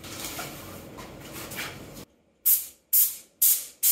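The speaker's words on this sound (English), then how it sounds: "It's all primed up, ready to go. We'll get spraying now." A paint sprayer spraying primer in a shop gives a steady hiss for a couple of seconds, then three sharp, short bursts of spray follow with pauses between them.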